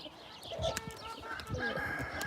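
Birds in a garden calling, with chicken-like clucks and cooing mixed with higher chirps, moderately close and fairly continuous against a soft outdoor background.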